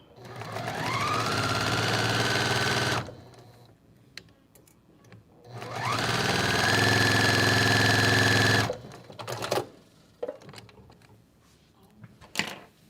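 A sewing machine stitches quilt half-square triangles in two sustained whirring runs of about three seconds each, separated by a pause, followed by scattered clicks and handling noises.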